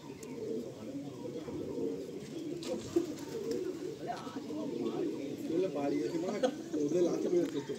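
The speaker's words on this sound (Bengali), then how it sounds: "ভাইয়ের খুব পছন্দের পায়রা, শর্ট সাইজ মাদি" Pigeons coo steadily in a Madrasi pigeon loft, a low continuous murmur of overlapping calls under a man's ongoing speech.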